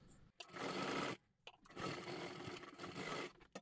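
Sewing machine running in two bursts of steady stitching along the top edge of a garment being box-fitted, briefly stopping between runs, close and fairly loud with no talking.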